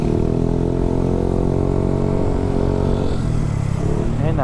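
A motorized tricycle drones past on a city road, its mid-pitched engine buzzing loudly and close, then shifting tone near the end as it pulls away amid traffic.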